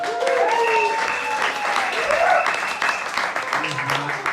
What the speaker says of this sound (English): Give the Remote Collective a big round of applause